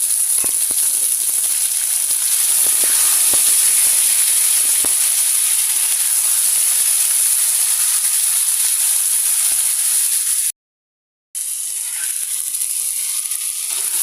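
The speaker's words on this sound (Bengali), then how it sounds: "নিজের মতো নেড়ে করে শাকগুলো ভাজা ভাজা করে নেব" Malabar spinach greens fry in oil with onion and garlic, giving a loud, steady sizzling hiss that is broken only by a brief silent gap. No one speaks.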